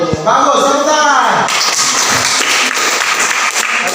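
Classroom students breaking into loud, dense applause after a short burst of voices, the clapping carrying on steadily to the end.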